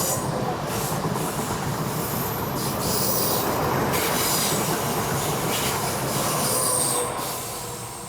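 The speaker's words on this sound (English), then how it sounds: "Wonderful train going by." A train passes close by with a continuous loud roar of wheels on rails, steady rumble and metallic squealing over about eight seconds, slowly easing off at the end, with no voices.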